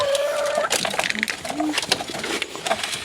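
Hens eat feed close by, giving soft clucks and coos with faint pecking and scratching, while a person talks to them over the birds.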